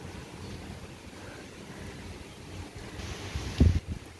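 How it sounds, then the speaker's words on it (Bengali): Heavy rain with gusting stormy wind, a broad steady roar of wind and downpour, with a louder close rumble of wind buffeting near the end. "তার সাথে ঝোড়ো হাওয়া"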